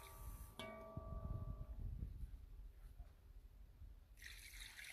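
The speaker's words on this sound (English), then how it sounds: "So I'm about to pour some water in right now." Water pours and trickles steadily into a pot of Jamaican stew chicken, faint and close, after a short tonal clank at the start, ending in a brighter hiss.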